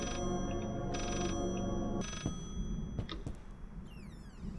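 Telephone ringing inside the horror game Layers of Fear: electronic rings in repeated bursts, then the tone cuts off and shifting eerie game sounds and rising swoops follow.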